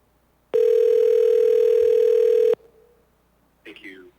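A steady telephone dial tone sounds loudly for about two seconds as a caller dials into a platting board public testimony hearing, then cuts off, followed by quiet and a brief electronic chirp.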